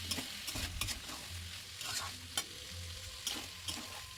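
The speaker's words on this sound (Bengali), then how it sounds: "দেওয়ার পরে এবার এটাকে বেশ কিছুক্ষণ আমাকে নাড়াচাড়া করতে হবে" Peas frying in oil over low flame for chicken ghugni, stirred steadily, giving a fairly quiet continuous sizzle with a low rumble and intermittent scrapes and taps of the spoon against the pan, no talking.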